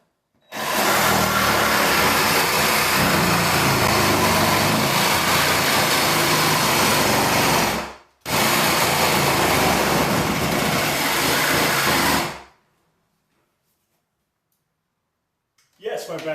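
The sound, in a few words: Sawzall reciprocating saw cutting rotten floor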